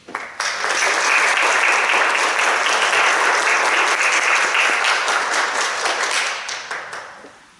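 Loud, sustained applause from a ceremony audience at a professors' inauguration, rising quickly, holding full and dense for several seconds, then tapering off at the end.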